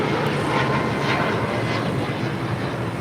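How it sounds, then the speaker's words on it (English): A United Airlines Boeing 737 MAX 9 departing LAX for Tampa, a steady, loud jet engine roar holding constant through the brief moment. "Next departure, United Airlines Flight 279 heading to Tampa, Florida in a 737 MAX 9."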